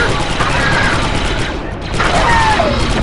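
Rapid blaster fire in the Star Wars Republic Commando video game: dense, loud, continuous bursts with one short lull midway, overlaid by game noise and a voice.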